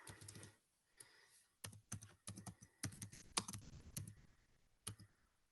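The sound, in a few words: typing on a computer keyboard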